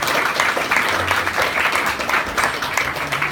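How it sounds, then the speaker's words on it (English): Audience clapping for the judges of a competition at a stage magic event, a dense steady round of applause filling the room throughout, near and loud. "I'd first of all like to give a wonderful applause to the three judges we had last week"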